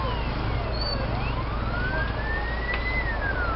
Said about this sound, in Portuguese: A polícia está chegando, a viatura da polícia.